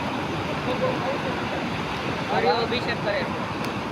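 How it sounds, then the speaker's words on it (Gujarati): Steady roar of rough sea surf at Somnath on the Gujarat coast, with gusting wind buffeting the microphone, continuous and close, with a few faint voices briefly audible in the background. "એટલો મસ્ત પવન આવે છે ને, આમ એટલો ખૂંખાર દરિયો"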